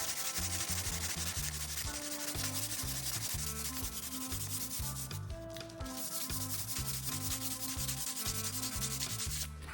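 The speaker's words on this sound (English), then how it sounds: "After I've got all the lettering sanded off with the 60 grit sandpaper" Coarse 60 grit sandpaper is rubbed rapidly and continuously back and forth along a pipe to strip printed lettering, a loud close rasping with a steady rhythm.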